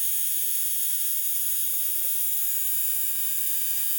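The small electric motor of an Athearn Blue Box B&O ALCo PA1 model locomotive, uncleaned, whines in a steady thin high-pitched buzz, faint and continuous throughout with no other sounds.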